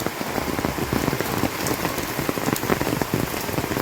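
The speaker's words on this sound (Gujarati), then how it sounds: "જો સર્વત્ર વરસાદ આવે છે. કેવો વરસાદ આવે બાપુ?" Heavy rain pours down outside a house facing a temple, a dense, steady close patter of drops on surfaces with no pause.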